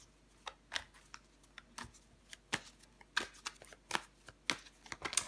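Tarot cards are handled and laid down on a surface, producing a string of soft, close, irregular flicks and taps with quiet pauses between them and no voices.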